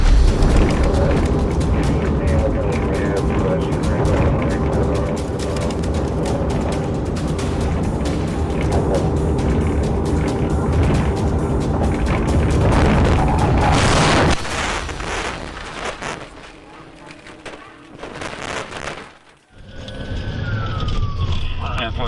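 Police chase ends in a car crash: loud road roar and wailing sirens fill the first fourteen seconds, then a heavy impact is followed by quieter scraping and rumbling as the noise drops off.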